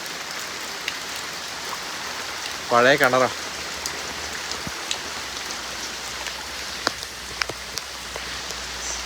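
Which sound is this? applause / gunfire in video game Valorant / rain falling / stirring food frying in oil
rain falling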